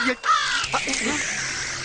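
A crow caws once, short and nearby, amid a noisy scene with voices and a broad background hiss.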